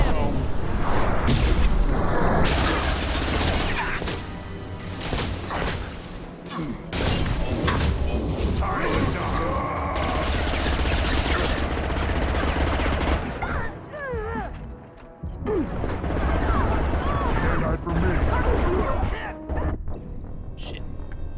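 Mass Effect 2 video game combat brings dense bursts of gunfire and heavy impact thuds for about twenty seconds, with a short lull before the shooting resumes, mixed under talk.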